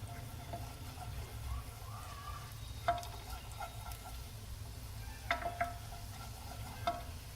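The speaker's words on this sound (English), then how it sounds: "Going to let it fry a little for 30 seconds." Garlic fries in butter in a pan with a soft, steady sizzle close by, broken by a few light clicks and scrapes of stirring, with no voices.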